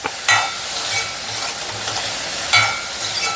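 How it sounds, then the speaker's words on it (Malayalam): Cucumber pachadi stirred in a pan, a spoon scraping in steady repeated strokes over a soft frying sizzle, close and moderately loud with a couple of sharper scrapes, no voices. "ഇത് നല്ലപോലെ വെന്ത് വരുന്നിടം വരെ ഇളക്കണം"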